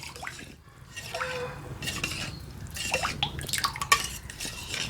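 Liquid is poured into a dish while cooking at home, a rice flour and coconut milk batter for vattayappam, with trickling and dripping sounds, small splashes and light clinks of the vessel, close and moderately quiet.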